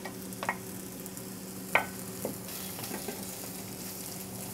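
Roughly chopped onions sauté in a pan for Pakistani curry, a soft steady sizzle with a few sharp stirring clicks and a low background hum, no talk.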